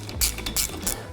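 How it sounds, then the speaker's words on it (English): Torque wrench ratcheting as it tightens the aluminum cylinder barrel on a Vespa engine rebuild: three quick, close metallic clicking bursts in a steady rhythm, with no talk. "I'm going to use the torque wrench."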